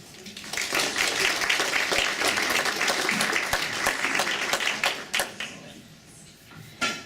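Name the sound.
audience applause welcoming speaker Josee Beauchamp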